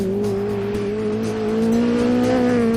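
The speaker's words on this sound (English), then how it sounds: "Just listen to that bike engine scream." A Mini fitted with a Yamaha R1 motorcycle engine screams at high revs on the move, a loud sustained engine whine holding a steady rising pitch throughout, close and alone.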